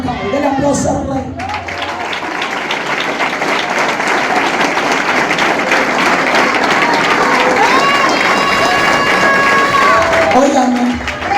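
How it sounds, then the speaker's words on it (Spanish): A church congregation breaks into sustained, loud applause mixed with crowd noise and shouted voices. The clapping stays dense and steady for about ten seconds. "denle aplauso al Rey"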